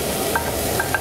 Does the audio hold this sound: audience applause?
no